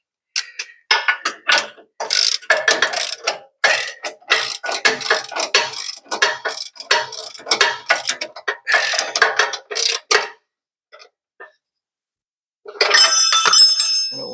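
Socket wrench ratcheting while working on the suspension of a Ford Econoline van, with many quick clicking bursts in steady rhythm close up, then a pause and a final short flurry of clicks.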